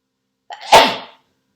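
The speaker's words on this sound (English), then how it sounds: "I'm going to sneeze." A single loud, close sneeze from an adult, with a short sharp intake of breath followed by an explosive burst that trails off, alone in an otherwise quiet room.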